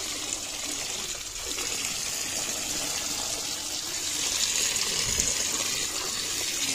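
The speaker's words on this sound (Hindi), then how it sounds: "इसको हम पानी के अंदर मिट्टी गर्दो गुबार जो लगी है वो उतार लेंगे" Water pours and splashes continuously as dirt and dust are rinsed off a karand stone, a steady hissing gush that fills the whole stretch without any voices.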